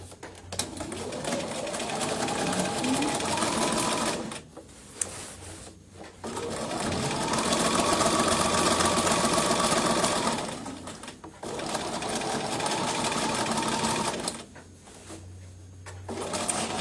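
Sewing machine stitching a reinforcement onto the strap of a fabric bag, running in several long bursts with short pauses between them, close and steady, with a little faint talk in the background.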